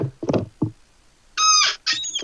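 A chair squeaks in a few high, seagull-like cries, two drawn-out shrill squeals following brief knocks and creaks in a quiet room.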